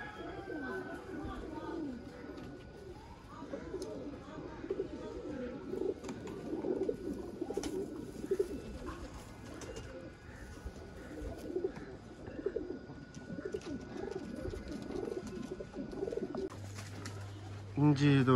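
Sialkoti black-faced pigeons from a breeding pair coo in repeated soft, rolling phrases close by, while someone talks over them throughout.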